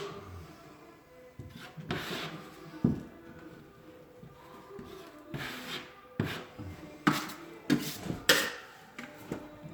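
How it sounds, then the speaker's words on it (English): Metal drywall knife scraping and smearing joint compound over screw heads while taping a hallway, a run of close rasping strokes with louder swipes in uneven rhythm, no talk. "Now I'm gonna strike my screws."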